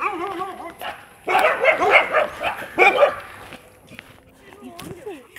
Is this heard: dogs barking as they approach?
yes